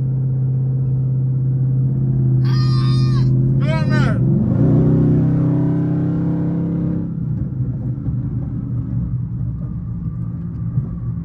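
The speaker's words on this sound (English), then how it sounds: "But the downshift on the scat is so crazy, bro. Downshifts on the scat sound amazing." Dodge Scat Pack car engine rumbling and dropping through a downshift while driving, a deep, loud exhaust drone that rises and shifts in pitch, with brief high whistling sounds cutting in midway.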